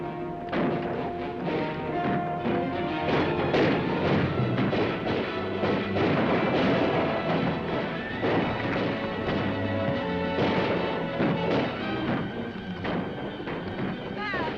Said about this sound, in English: Stop firing! Hold it, Pat! Hold the fire!